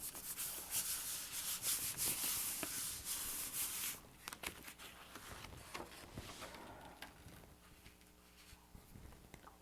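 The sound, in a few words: rubbing paper on a gel printing plate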